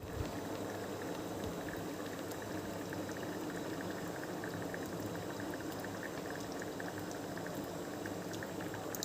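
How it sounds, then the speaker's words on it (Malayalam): Kerala-style fish curry with coconut and mango bubbling steadily in a pot as a little raw coconut oil is poured in, giving a continuous close simmering burble with faint liquid splashes and no voices. "പിന്നെ കുറച്ച് പച്ച വെളിച്ചെണ്ണ ഒഴിക്കുകയാണ്."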